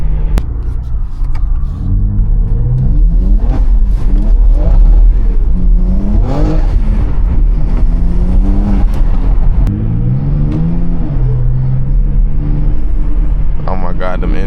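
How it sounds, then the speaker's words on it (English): A 700HP BMW X3M, driven in the rain, delivers loud, close intake roar as it revs up and down repeatedly, followed by crackling exhaust burbles. Someone talks over the engine throughout. "The intake noise followed up by the burble is just, it sounds so good to me"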